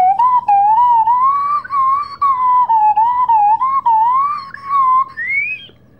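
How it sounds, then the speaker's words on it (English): A slide whistle plays a continuous wavering melody, gliding up and down in pitch, loud and close, with a rising slide at the end. "Slide Whistle Busker"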